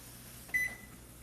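A short electronic beep from a new kitchen range as its timer is set, one faint tone over quiet room hum.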